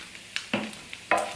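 A spoon stirs flour into a chicken bacon ranch pasta sauce in a pan, giving a few short scraping, sizzly strokes with brief pauses between them, close and fairly quiet.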